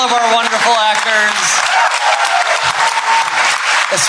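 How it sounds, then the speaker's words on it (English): A live-show audience applauds the actors in a dense burst of clapping and cheering, loud and near, while a voice speaks over the start. "Please give a round of applause to all of our wonderful actors,"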